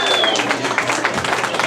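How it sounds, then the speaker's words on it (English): Audience applause inside a pub during a Saturday music jam, a steady dense patter of many hands clapping throughout, close and fairly loud, with crowd murmur mixed in. "They're clapping for you."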